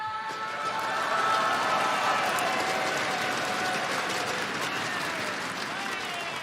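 A large crowd applauding at a Counter-Strike grand final in an Espoo arena, a dense sustained wash of clapping and cheering that swells after the first second and holds steady.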